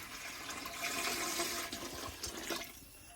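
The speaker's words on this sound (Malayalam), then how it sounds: "രണ്ടാമത്തെ പാത്രം വെള്ളം ഒഴിച്ചു" Water pouring steadily into a cooking pot for cooking rice, a continuous close, fairly loud gushing splash that holds through most of the moment with slight rises and dips.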